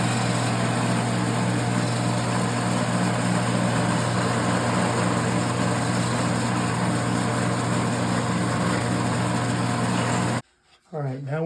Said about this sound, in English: Next task here is to drill the hole for the truss rod adjustment.